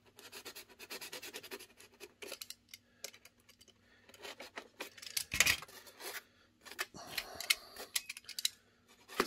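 Scissors snip and scrape through foam board in short, irregular bursts, close and fairly quiet, with light rubbing and handling noises between cuts.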